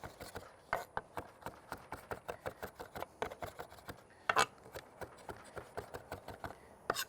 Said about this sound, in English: We just want to chop the cilantro up.